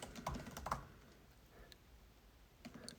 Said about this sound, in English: you hear me typing on my keyboard right now.